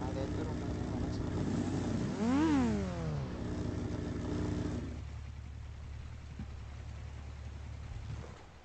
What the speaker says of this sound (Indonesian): Berisik motor woi.